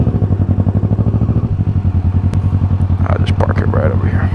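A 2017 Kawasaki Ninja 650 engine runs with a close, loud, steady rhythmic thrum as the bike rolls in and is parked, with a brief voice-like burst near the end.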